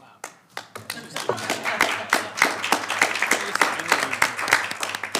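Applause at a board meeting: a small group claps steadily and sharply for several seconds, fairly close, building up after a few scattered first claps.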